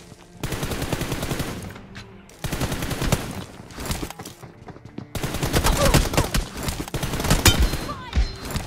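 Rapid automatic gunfire from a shooting video game comes in dense, loud bursts separated by short gaps, with occasional single shots between them.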